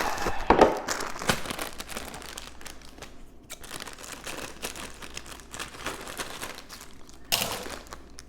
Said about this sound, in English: Open up our box mix.